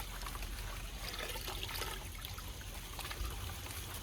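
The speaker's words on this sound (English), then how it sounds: "I'm just going to shake this into this bucket of water" A plant's roots are shaken and worked in a bucket of water to loosen sand during a carnivorous bog garden teardown, giving a continuous close sloshing and trickling with small splashes throughout.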